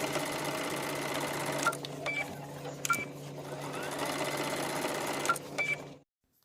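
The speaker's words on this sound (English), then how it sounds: "Now let's take it to the machine and stitch it." A sewing machine stitches fabric in a steady, rapid mechanical whir, briefly pausing and restarting a few times with small clicks before stopping abruptly at the end.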